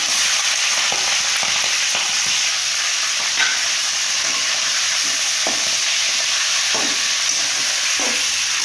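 Quail pieces frying in hot oil with mustard seeds and curry leaves, a steady loud hiss and crackle with occasional stirring scrapes, close and continuous without any talk.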